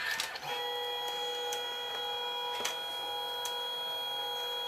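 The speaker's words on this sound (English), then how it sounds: "the paper is going out the back side of the printer" A Canon SELPHY CP1300 compact photo printer printing, a steady close mechanical whir with a constant tone and a few sharp clicks and ticks as the paper feeds through.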